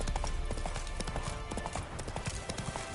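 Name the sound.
horse Roach galloping in the video game Witcher 3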